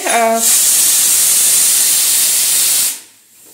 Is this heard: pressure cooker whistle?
yes